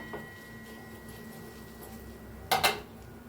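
A spoon briefly clinks and scrapes against a pan while curry leaves and Kashmiri red chilli powder are mixed into hot oil with the gas turned off, making tadka for misal pav. A quiet kitchen hum surrounds two close, sharp metallic knocks.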